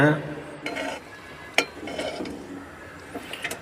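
Scraping, clinking stir of a spoon in a pot of dried fish curry, a few irregular strokes with a faint sizzle underneath.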